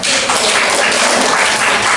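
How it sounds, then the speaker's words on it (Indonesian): Dense, loud applause from a class of students in a classroom, with steady continuous clapping that fills the whole moment. "beri tepuk tangan buat"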